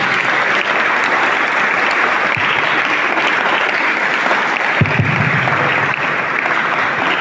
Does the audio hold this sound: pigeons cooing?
no